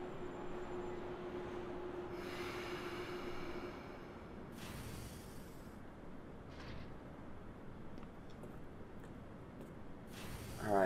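Steady rumbling hiss of a subway train ride in the video game No More Heroes, a continuous rolling drone with faint brief clatters and a swell at the very end.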